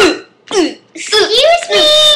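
A child gives a short, loud, forced cough that moves into an animated, high-pitched voiced sound, close to the mic, with a childish voice in character throughout.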